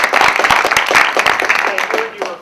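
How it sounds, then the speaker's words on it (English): Theatre audience at a dance artist talk applauding, a short burst of fairly loud, dense clapping mixed with voices speaking over it. "Give her a round of applause."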